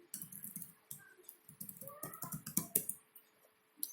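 Typing on a computer keyboard produces a quiet series of soft, irregular keystroke clicks in short bursts, heard close and faint without speech.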